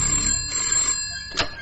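A telephone bell rings loudly and close, a sustained metallic trill cut off before a brief second burst, alone without talk.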